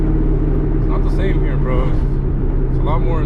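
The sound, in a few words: straight-piped 2003 Ford Mustang GT engine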